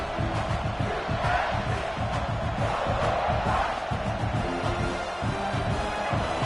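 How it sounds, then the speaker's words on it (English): Football stadium crowd at a Baylor versus South Carolina game, a large cheering roar rising and holding steady throughout, dense and continuous with scattered shouts and whoops. "This crowd rising up,"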